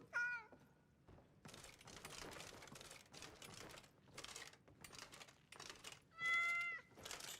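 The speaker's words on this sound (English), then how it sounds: "So you get to have my cat as a follower?" Two distinct meows from a cat follower in modded Skyrim, one at the start and one near the end, over continuous busy game ambience and clattering effects.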